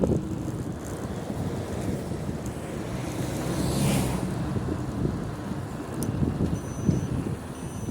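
Steady, loud wind buffets a full-face helmet microphone during a ride with a dense, rumbling roar, gusting slightly stronger midway, with no voices.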